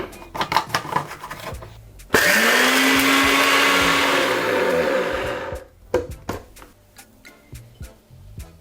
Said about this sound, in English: Now cover and blend this.